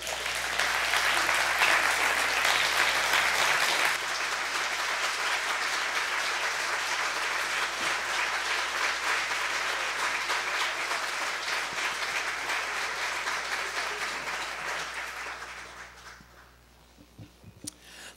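Steady audience applause at a church service, a full even wash of clapping that holds for most of the span before tapering off into near quiet at the end.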